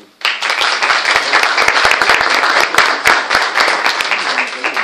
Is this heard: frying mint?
no